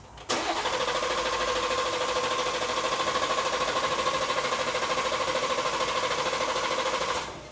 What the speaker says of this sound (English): we're gonna try to start it on a stage 2 just to see if it cranks